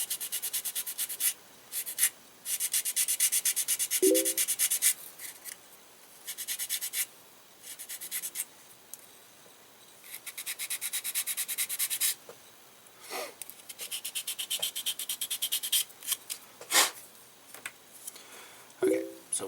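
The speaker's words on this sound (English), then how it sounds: "the little bit of sanding I've been doing" Bursts of gritty, scratchy rubbing from sanding a 1/35 scale plastic Gundam model head part come and go in uneven stretches, close by, with brief pauses between passes and a few small knocks.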